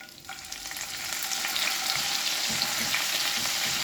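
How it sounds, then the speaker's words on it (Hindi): Fenugreek greens sizzle and crackle steadily in a hot pan with ginger and garlic, with a soft hiss rising as they hit the oil and are stirred. "अब इसमें हम मेथी साग को डाल देंगे।"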